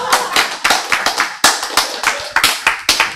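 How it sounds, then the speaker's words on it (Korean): An audience in a lecture hall claps during a health and Bible lecture, with loud, close bursts of applause that come in a rhythmic, almost unison pattern with short pauses between them. "그러면 또 박수가 나올 거라고."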